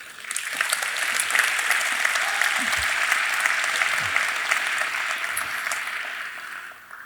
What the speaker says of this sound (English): Big applause for WaTech.